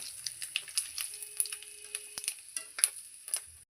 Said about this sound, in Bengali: 2টো শুকনো লঙ্কা ও 1 চামচ পরিমাণে 5 ফোড়ন। এবার আমি এটাকে 10 থেকে 15 সেকেন্ড ধরে ভালোভাবে ভেজে নেব।